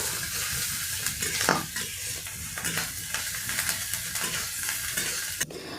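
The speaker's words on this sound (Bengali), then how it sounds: "এই আদা রসুন পেঁয়াজকেও একটু নাড়িয়ে নিচ্ছি।" Chopped onion, ginger and garlic frying in a pan for egg pasta, stirred with a spatula, giving a steady close sizzle broken by scraping strokes and a sharper clank near the end, with no talking.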